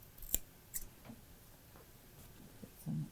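Scissors trim a frayed selvage edge of fabric, a few quiet, scattered snips spaced irregularly in a hushed room with no talking.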